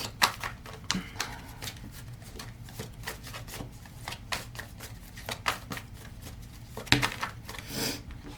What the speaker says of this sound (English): so I'm just going to shuffle again.